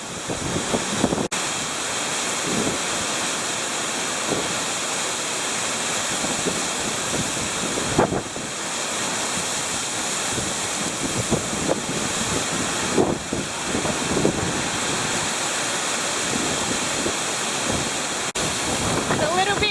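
Continuous rushing wind buffets the microphone in gusts, loud and close, with no speech.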